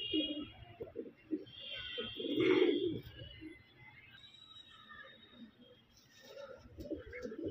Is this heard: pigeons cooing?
yes